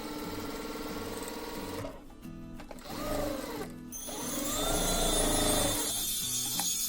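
A sewing machine stitches a blouse shape belt with rapid rhythmic whirring, stopping briefly and then starting again, so the runs of stitching are separated by short pauses.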